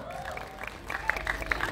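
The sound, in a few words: audience applause at a film press conference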